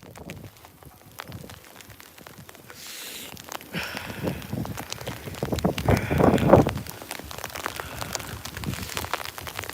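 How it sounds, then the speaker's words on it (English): Heavy sleet mixed with small hail falls during a winter storm, a dense continuous patter of tiny ticks and taps on surfaces nearby, swelling louder midway and staying steady throughout. "It's just really heavy sleet."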